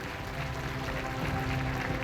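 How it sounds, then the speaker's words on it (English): At an ASEAN summit ceremony, a brief, moderately loud round of audience applause plays as a steady wash of clapping for about two seconds. "A big round of applause."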